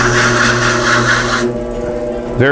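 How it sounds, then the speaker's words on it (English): Clay being trimmed on a spinning pottery wheel gives a loud, steady rubbing scrape with a constant hum, then shifts tone partway through before a brief sweeping sound at the end. "I'm going to trim off some of this excess"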